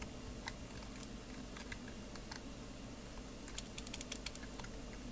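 Someone types code in Dreamweaver on a computer keyboard, with quick irregular key clicks in small bursts over a quiet room hiss, close but soft, with no voices.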